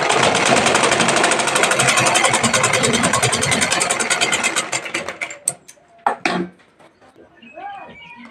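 A sewing machine stitching piping onto a blouse, a fast, steady mechanical whirr of needle strokes running close and loud, then slowing and stopping, followed by a few cloth-handling knocks and a brief voice.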